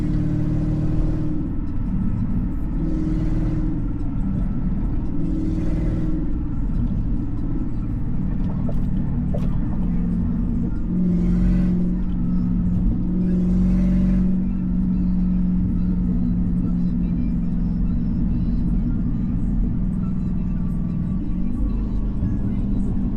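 A Chrysler 300 Scat Pack with a swapped engine drives on a freezing early morning, its steady low exhaust rumble swelling into a few revs, heard from inside the cabin.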